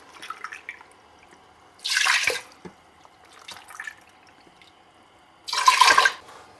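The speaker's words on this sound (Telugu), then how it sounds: "ఇప్పుడు మనం ఒక గిన్నెలోకి తీసేసుకొని బియ్యాన్ని కడుక్కుందాము." Rice that has been roasted is rinsed in a bowl of water, giving a few short bursts of swishing and splashing, two louder sloshes separated by quieter dripping and trickling, close by with no talking.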